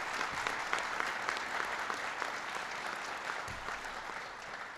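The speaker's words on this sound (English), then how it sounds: "So give Heather a big round of applause." Steady applause from an audience at a presidential economic announcement, a dense even clapping that holds for several seconds without cheering.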